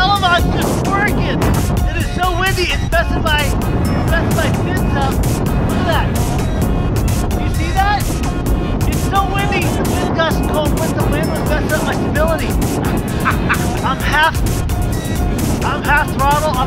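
Electric motor of an RC plane running at half throttle on a 4-cell battery, flown outdoors in roughly 60 mph winds; a steady loud whine sits under heavy wind buffeting on the microphone while people talk excitedly throughout.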